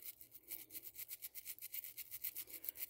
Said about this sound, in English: Can just spray some in there and then come in with a toothbrush and try to get